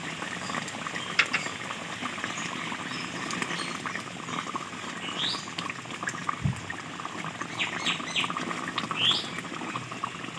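Fish curry bubbles steadily in a pot, a close, continuous soft boil with small pops and gurgles throughout, at low volume and with no voices.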